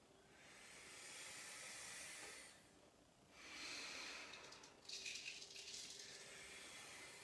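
A person breathing in slowly through pursed lips and out through the nose, soft airy hissing inhales and exhales in a calm, quiet sequence of long breaths with no talk.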